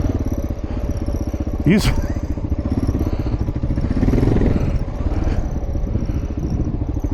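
Kawasaki KLR motorcycle being ridden on a trail, its engine droning steadily and close throughout, with a brief exclamation from a rider partway through.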